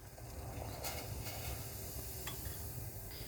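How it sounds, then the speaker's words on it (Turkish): A soup pot of water is at a rolling boil, giving a steady bubbling hiss that continues throughout, with a few faint clinks. "Suyumuz kaynadı."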